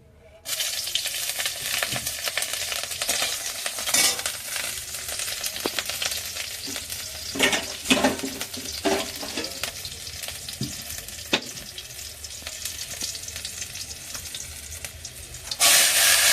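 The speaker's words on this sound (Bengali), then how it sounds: "কাঁকরোল ভাজাটা বসিয়ে দেবো।" Pointed gourd (kakrol) frying in oil in a wok, a loud, continuous close sizzle and hiss that holds for the whole stretch, with occasional stirring scrapes and a brief swell at the end, and no voices.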